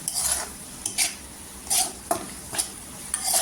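Dry ground spices, including turmeric and coriander powder, sizzle in hot oil as a spoon stirs them in a pan for a quick potato sabzi. The scraping strokes come at a steady rhythm, close and fairly loud, with no talk.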